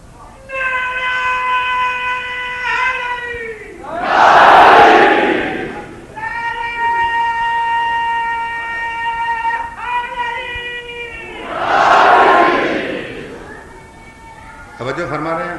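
At a 1989 majlis in Mandi Bahauddin, a large crowd twice erupts in loud, roaring chanted slogans, each burst separated by a man's long, sustained spoken delivery.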